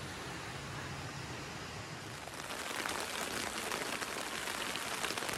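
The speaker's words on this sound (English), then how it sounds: "Here we go again, another night of rain" Steady rain pattering on tents during a night camp in the Grand Canyon, a dense continuous hiss that swells louder partway through, with no voices.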